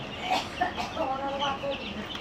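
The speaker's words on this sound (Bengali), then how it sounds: "হলো তিন দিন বয়সী হাউমি মুরগির বাচ্চা" Three-day-old Fayoumi chicken chicks peep and chirp in quick, overlapping high calls, close by and fairly loud, with no talk.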